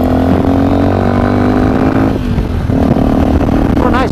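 A Sinnis Terrain motorcycle fitted with a new exhaust runs on a test ride, its engine droning loud and close with steady harmonics, dipping briefly as revs fall and then climbing again.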